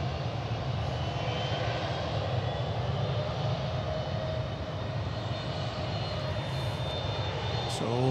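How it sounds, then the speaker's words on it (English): A UPS Boeing 757 cargo plane's engines rumble steadily at DFW Airport in the early morning, a loud continuous broadband roar with a faint whine, heard from a distance without talk. "It's another UPS plane getting ready to go out."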